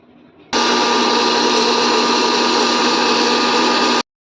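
Mixer grinder grinding roasted green gram for laddoo, starting abruptly after a faint lead-in and running as a loud, steady whirring roar for about three and a half seconds before cutting off.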